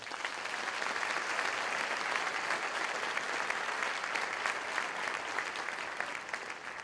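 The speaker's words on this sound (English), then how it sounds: "Please give them a round of applause." Sustained, dense applause from a large audience at a graduate commencement ceremony, steady and even throughout, with no talking over it.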